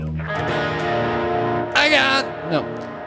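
A sung voice drenched in reverb and echo, tones ringing and smearing into each other, with a wavering processed quality.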